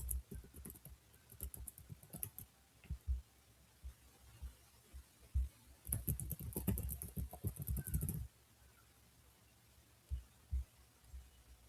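Soft, irregular taps on a mobile phone screen as bank account details are entered, light clicking bursts that cluster more densely in the middle, faint and close with no talk.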